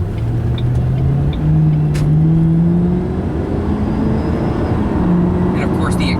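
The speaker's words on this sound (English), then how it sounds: "The exhaust sounds totally beautiful." Engine and exhaust note of a 2006 Ford Mustang GT convertible while driving, a steady low rumble with rising and falling pitch as it accelerates, continuous and close throughout.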